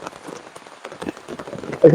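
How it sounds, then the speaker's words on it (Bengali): Heavy rain pours down in a dense, constant patter on surfaces close by, and a person talks through it. "দেখেন কি পরিমাণ বৃষ্টি হইতেছে"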